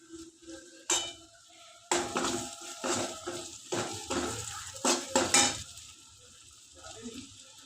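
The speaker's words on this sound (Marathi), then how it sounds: "हे सर्व मिक्स करून भाजून घ्यायचं" Spices, including garam masala, are stirred and roasted in a pan for a Marathi lima bean curry, with a metal spoon scraping and clanking against the pan in irregular strokes over a faint sizzle.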